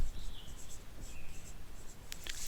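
Chalk or marker writing on a board during a linear algebra lecture on vector spaces, heard as soft scratchy strokes with brief squeaks, fairly close over a steady room hiss.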